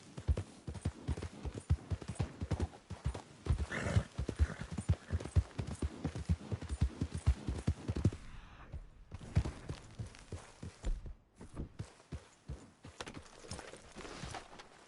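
Galloping horse hooves in a video game, a fast, steady clip-clop close and loud, thinning out briefly partway through before picking up again.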